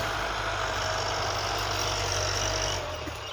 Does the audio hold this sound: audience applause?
no